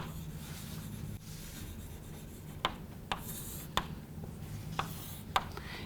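Pen or pencil writing on paper scratches faintly in short strokes, with a few sharp taps as the tip meets the page, quiet and close in an otherwise still room.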